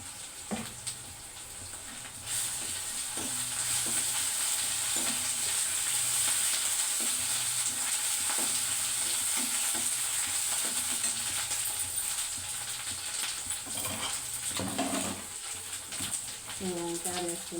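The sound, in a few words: frying spices in a pan with fenugreek powder and turmeric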